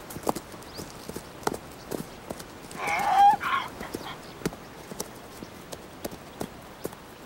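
Hooves of a wild ass stallion running across the cold desert of Ladakh, a light, fairly regular patter of faint hoofbeats spread through the clip with a brief louder burst in the middle.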